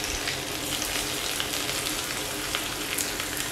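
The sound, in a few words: onion, garlic, dried chilli and curry leaves sautéing in oil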